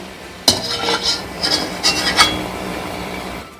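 Fried garlic tipped into a Kondaji chivda mix at home, a sharp clink followed by a few light rustling, scraping stirs and soft metallic taps, close and fairly quiet with no talk.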